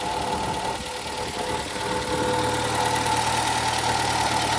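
A 1959 Triumph TR3 roadster with twin carburetors idles nearby, a steady, loud mid-pitched engine rumble with a slightly uneven, knocking pulse that holds evenly throughout.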